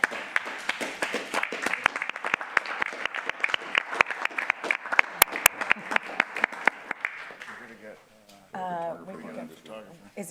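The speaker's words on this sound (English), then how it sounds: "I think it is in order to stand up and clap" A city council chamber breaks into sustained applause, dense clapping from a standing crowd that thins out and stops, followed by people talking near the microphone.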